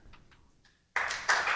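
Audience applause at a public policy fellows presentation event, a sudden burst of clapping from a crowd that starts loud and swells further after a moment of quiet.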